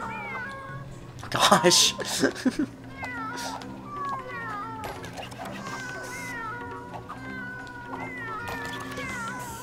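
A cat meows repeatedly in the LittleBigPlanet video game, a string of short, wavering mews under lively talk from several people, with a few louder bursts of sound early on.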